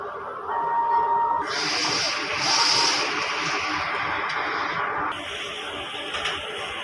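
A DTF printer whirs and hisses steadily at close range while running a nozzle check, its pitch and intensity shifting as the print head moves, with a faint voice in the background.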